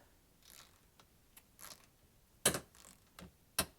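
Metal parts click and clack a few times while a nut is tightened on a step being installed on a 2022 third-generation Toyota Tundra. The sounds are close, sharp and sparse, two of them louder snaps, over a quiet background.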